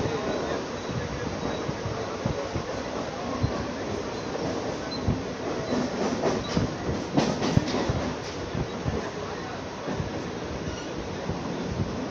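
Steady rail rumble and rhythmic clickety-clack of a Mumbai local train running past Parel junction, heard from on board with constant wind noise and a brief burst of sharper rattling midway.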